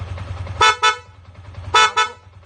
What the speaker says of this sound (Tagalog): pa isang busina nga